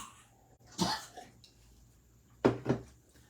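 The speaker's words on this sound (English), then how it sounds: "I still have a coughing dog" A dog's two short bursts of harsh, dry coughing, a lone hack then a quick double cough, against a quiet background.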